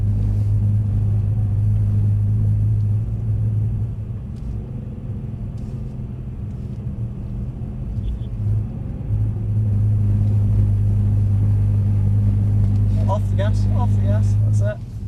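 Mercedes C63 AMG engine rumbling steadily on a skid pan, a loud low drone throughout with small throttle blips as the car slides, and a voice talking over it near the end.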